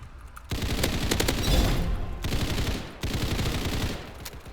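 Rapid automatic gunfire from a gun in the Hypershot shooter game, loud, close bursts that stop briefly before resuming, with almost no talk over them.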